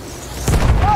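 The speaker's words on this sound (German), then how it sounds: "Ich werfe eine Granate." A grenade blast in the Battlefield 1 Ballroom Blitz map, a sudden loud low boom that rumbles on for about half a second after a brief quiet lead-in.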